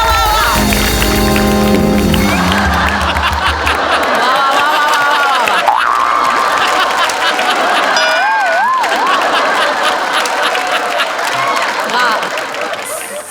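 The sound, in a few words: audience applause and cheering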